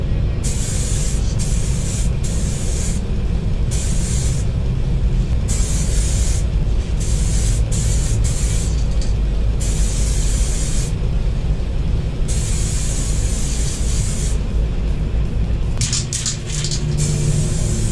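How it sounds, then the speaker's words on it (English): Spray Max High Gloss Clear aerosol can laying down clear coat on diamond plate guitar pickguards and covers, a close, loud continuous hiss in repeated bursts with short gaps between passes. "now it's time to throw some clear on there. I used Spray Max High Gloss Clear Glamour for this."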